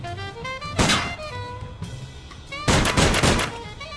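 Gunfire in the Sam & Max point-and-click video game, two loud broadband bursts about two seconds apart, with a busy game music bed underneath.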